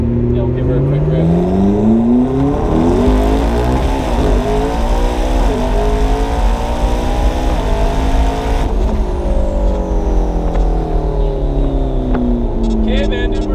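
A 700 hp twin-turbo V8 car revs up loud and close, its engine note climbing and falling in a sustained roar with a sharp rise near the start, continuous throughout.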